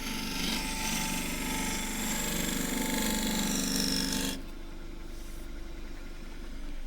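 A shear scraper works very dry Tasmanian eucalypt burl spinning on a wood lathe. The lathe hums steadily under a bright, gritty scraping that runs continuously for about four seconds and then stops sharply, leaving only the motor running.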